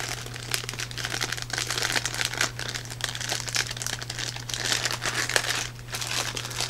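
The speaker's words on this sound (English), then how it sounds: "Open up this little bag." Plastic packaging of a Wuben T70 flashlight kit bag crinkles and rustles steadily as it is opened, close and continuous over a low steady hum.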